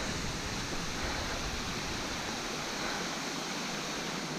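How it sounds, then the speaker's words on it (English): A woodland waterfall near Gibson Mill roars as a constant, even rush of falling water, heard alone with no voices. "I have just spotted another waterfall"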